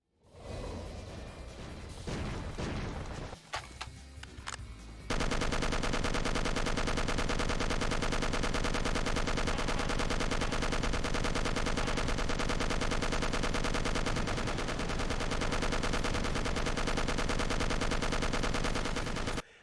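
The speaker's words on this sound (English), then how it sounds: "I was just shooting, and it was just this constant stream of noise from the machine gun" A machine gun in the shooter game Will Rock fires in one unbroken dense stream for about fifteen seconds after a few scattered shots and whooshes, loud and without talking.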